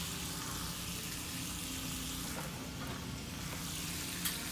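Wagyu beef sizzles steadily on a hot surface, a dense, continuous frying hiss at moderate volume, close by and without a break, with a brief faint clink near the end.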